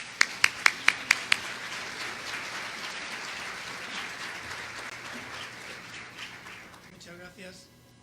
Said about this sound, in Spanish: les pido que le demos un cordial aplauso